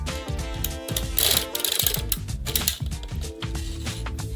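Circular sock machine being hand-cranked, yarn carried around the needles, giving dense clattering, ratcheting mechanical clicks in quick rhythmic runs, close and continuous without voices.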